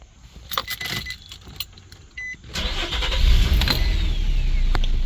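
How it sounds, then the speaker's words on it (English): A car engine is started with a portable jump starter kit: faint clicks and rattles precede the engine cranking and catching, then a steady idle rumble close by. "let's start the vehicle"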